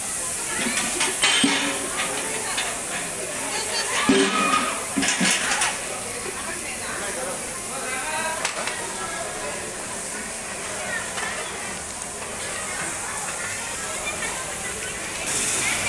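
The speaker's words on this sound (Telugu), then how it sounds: "నానబెట్టుకున్న చింతపండు పులుసును అయితే పోసుకోవాలి" Soaked tamarind extract poured into hot tempering of chana dal and curry leaves, hissing and simmering steadily in the pan with a bubbling sizzle throughout, with a voice speaking over it.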